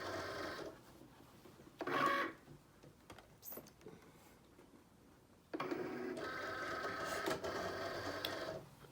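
Cricut Explore Air 2 cutting machine loading its mat: faint motor whirs and clicks in short bursts, then a longer steady mechanical hum with pulsing tones, close and quiet, with no speech.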